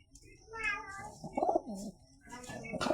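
A white pigeon coos in short throaty bursts close by, mixed with brief bright, mewing-like calls and light handling noise.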